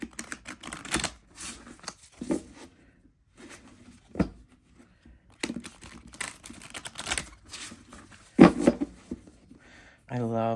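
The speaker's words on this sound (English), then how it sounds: "So I want to shuffle this up really good." Cards are shuffled close by in several quick, crisp riffling bursts separated by short pauses.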